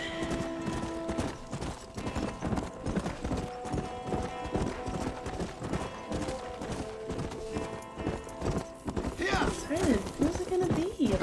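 Horse hooves clip-clop in a steady walking rhythm in the video game Red Dead Redemption, with a whinny near the end and people talking over the gameplay.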